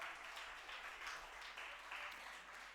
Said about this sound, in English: can we have a huge round of applause for Mr.